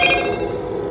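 Ringtone test on a Motorola Moto G30 phone, a short bright melodic tone playing from the handset, close and fairly loud for about a second with no speech.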